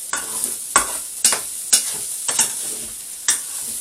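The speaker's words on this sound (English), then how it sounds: "So I'm just going to chop it up as I mix it through." Cold, lumpy potato being chopped and stirred through minced beef for potato skins, with sharp scraping strikes landing roughly every half second over a faint background sizzle, close by and with no talk.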